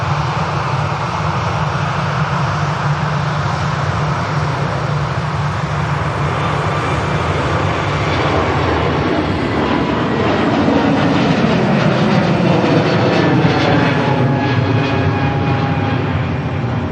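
A Turkish Airlines airliner takes off at Manchester Airport, its jet engines giving a loud, sustained roar with a rising whine and a shifting tone as it passes, building slightly toward the end.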